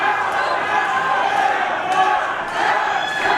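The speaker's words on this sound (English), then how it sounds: "The crowd chanting for him to tap." Wrestling crowd at a CCW title match in Hialeah, Florida, chanting for a submission while a figure-four leglock is applied: loud, continuous rhythmic crowd chanting filling the arena, with a commentator talking over it.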